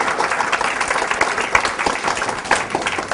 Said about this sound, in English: they are paid money to clap